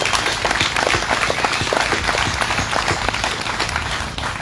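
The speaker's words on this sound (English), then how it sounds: "I really just want to give a massive thank you and a massive clap to all the volunteers" A crowd at an outdoor Aussie rally in Cairns gives the volunteers a dense, loud round of applause, steady and continuous throughout with a few cheers mixed in.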